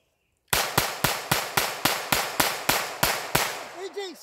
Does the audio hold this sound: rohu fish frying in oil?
no